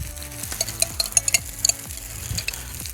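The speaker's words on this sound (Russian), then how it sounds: "И томатную пасту нужно также обжарить." Tomato paste and onion fry in a kazan over an open fire, a steady sizzle under repeated scraping strokes of a spoon against the pot, close and rhythmic.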